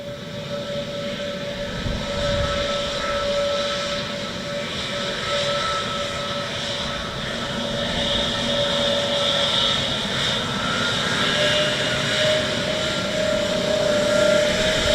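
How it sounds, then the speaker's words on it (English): Air Transat A321neo airliner from Toronto at Dublin Airport, a steady broadband jet engine roar with a whining tone, fairly loud and continuous throughout. "Air Transat 321 Neo from Toronto."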